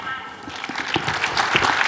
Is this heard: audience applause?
yes